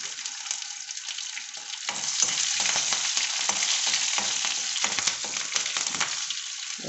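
Curry leaves and green chillies frying in hot oil, a bright crackling sizzle that swells louder after the first couple of seconds and stays busy with sputtering pops throughout.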